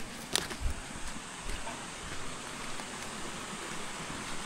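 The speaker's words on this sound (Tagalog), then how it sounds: "Naririnig na agad natin yung mga lagaslas po ng ilog ng tubig." Steady broadband rush of river water flowing through a forest trail near Antong Falls, continuous and moderately distant, with a couple of faint knocks early on and no talking.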